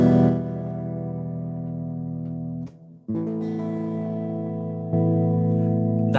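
An electric-sounding guitar switches between two beginner chords, each strummed and left to ring in long sustained blocks, with a brief gap and a clear chord change between them, close and clean with nothing else heard.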